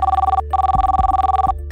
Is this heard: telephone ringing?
yes